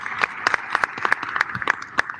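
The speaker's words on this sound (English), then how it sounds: "Let's give a round of applause for that again." An audience at a sports business and NIL education summit claps after a session, with quick, irregular hand claps that come close and fairly loud for about two seconds, and no talking.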